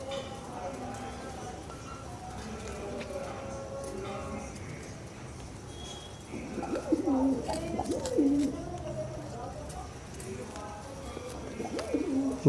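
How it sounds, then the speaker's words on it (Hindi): A small female pigeon coos softly in a rooftop pigeon loft, low throaty coos rising partway through amid faint background noise and other birds. "बढ़िया कबूतरी है"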